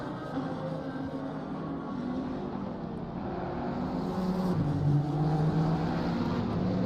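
Engine drone of a GT3 racing car in Assetto Corsa Competizione at Zolder, a steady low, layered hum that swells slightly near the end as the car runs through a chicane and up a hill.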